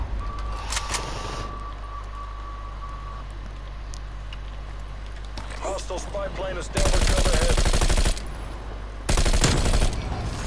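Gunfire in a first-person video game, with sharp shots early on, then two long dense bursts of rapid automatic fire near the end, loud and close over a quiet background hum.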